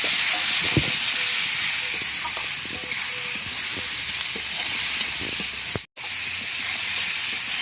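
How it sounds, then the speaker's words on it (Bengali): Prawns and green chillies frying in a pan for a bitter melon dish, a steady loud sizzle with scattered pops and stirring clicks that cuts out briefly near the end before resuming. "চিড়ে রাখা দুটো কাঁচা লঙ্কা ভালো করে মিশিয়ে নিয়ে ভেজে রাখা উঠছে আর চিংড়ি মাছ ঢেলে দেবো"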